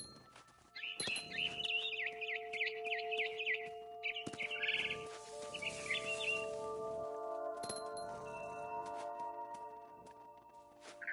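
A barn swallow in the video game What Remains of Edith Finch gives quick, high chirping bursts near the start. Soft sustained tones and scattered clicks follow in an otherwise quiet scene.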